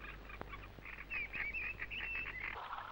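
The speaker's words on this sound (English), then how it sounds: "Coot." Coot calling on a Norfolk Broads wetland, a series of short, sharp, high squeaky notes repeated over a couple of seconds against faint background noise, mid-distance and fairly quiet.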